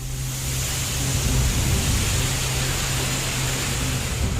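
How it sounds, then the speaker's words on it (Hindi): Torrential monsoon rain pours over the hill station of Nainital in Uttarakhand, a dense, unbroken roar of downpour and rushing runoff gushing along the roads, loud and constant with no voices. "सड़कों से बारिश का पानी ऐसे बह रहा है जैसे किसी कुदरती डैम के सैकड़ों दरवाजे एक साथ खोल दिए गए हैं।"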